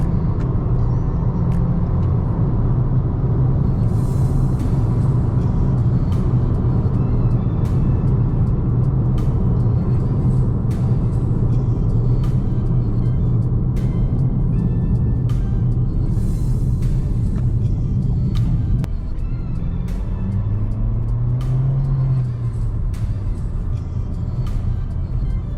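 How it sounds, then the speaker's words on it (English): A Toyota Corolla hatchback driven in sport mode gives a steady, loud, low engine and road rumble from inside the cabin, with a few light clicks and a brief rise in engine pitch late on. "The car is much more awake now when you activate the sport mode."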